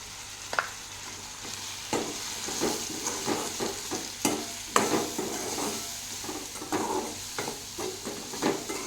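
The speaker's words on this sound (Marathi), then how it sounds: "याला आता मी छान मिक्स करून घेत आहे" Wild leafy vegetable with salt stirred and frying in a pan, a spoon scraping in repeated irregular strokes over a steady close sizzle, no talking.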